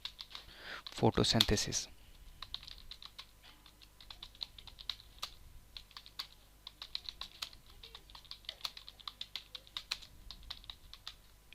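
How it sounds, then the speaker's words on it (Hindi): Rapid keystrokes on a computer keyboard while text is entered into a blank Microsoft Word 2016 document; a short spoken word comes first, then steady, close clicking taps continue to the end. "तो अब यहाँ पे कुछ टाइप करते हैं। जैसे हम टाइप करते हैं"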